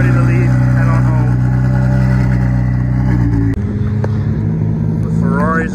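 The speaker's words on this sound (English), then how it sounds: "The Ferraris are now departing back to the dealership." Ferrari supercars, among them a 296 and a Portofino, pull away from a supercar show with a steady engine drone and a short rev, while a person talks over the sound.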